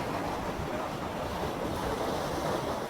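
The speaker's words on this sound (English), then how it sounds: "it's just the sound as well of the ocean, which is very therapeutic for me" Steady ocean surf rolling in on open coastline, a continuous broadband wash with a faint windy rumble and no distinct breaks, close and fairly loud throughout.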